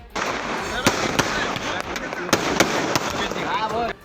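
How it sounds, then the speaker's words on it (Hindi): Firecrackers and fireworks burst at a night-time birthday celebration, sharp cracks and bangs popping irregularly over a constant crackling hiss, with a voice talking throughout. "जन्मदिन के जश्न के दौरान जमकर पटाखे फोड़े गए, काफी देर तक आतिशबाजी की गई।"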